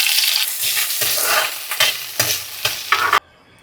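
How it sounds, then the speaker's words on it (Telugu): Green chillies frying in oil and stirred in a pan for beerakaya roti pachadi, loud crackling sizzle broken by several sharp spatula scrapes, close, ending abruptly into near silence. "ఆ నూనెలోనే కొంచెం పచ్చిమిరపకాయలు వేపుకుందాము"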